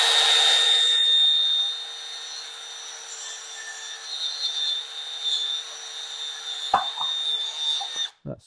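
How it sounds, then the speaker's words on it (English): Power drill boring drainage holes in a bonsai pot, a steady high whine that starts loud and then settles into a quieter sustained hum, ending with a few clicks and knocks. "Not super loud, but somewhat loud drilling."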